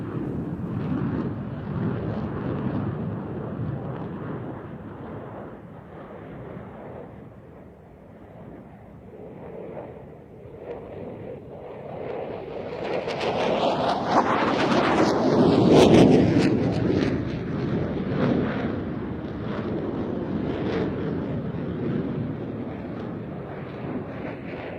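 A JF-17 Thunder and an F-16 flying a side-by-side Cuban 8 at an airshow in Izmir give a distant jet roar that fades, then swells loudly to a peak as they pass before easing back, with wind buffeting the microphone.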